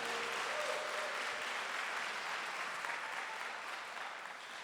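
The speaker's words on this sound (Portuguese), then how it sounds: "Eu queria que você aplaudisse o Senhor pela vida deles." A church congregation applauds for a couple of ministers, the dense steady clapping filling the whole stretch and tapering slightly toward the end, with no talking over it.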